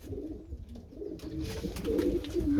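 Pigeons cooing inside a loft, a close, steady run of soft low throaty coos, with a brighter burst of cooing and rustling building toward the end and no voices.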